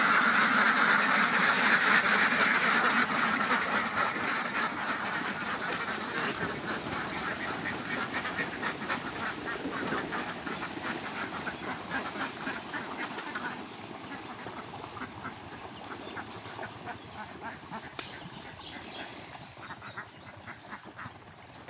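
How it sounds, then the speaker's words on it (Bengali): A flock of farm ducks quacking loudly and continuously as they are let out toward a pond, a dense overlapping chorus that is strongest at the start and eases slightly later, with no talk. "তো হাঁসগুলো সব ছেড়ে দিলাম।"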